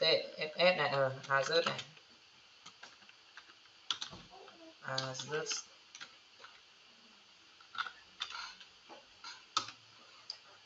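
Clicking keystrokes on a computer keyboard come in short irregular bursts, moderately close, with someone speaking over the start and middle of the typing.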